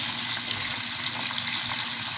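Water runs steadily as frozen sardines are soaked in it, a continuous close gushing hiss like a tap filling a basin, with no talking.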